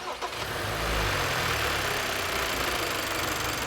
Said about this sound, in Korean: 시동 걸어 주세요.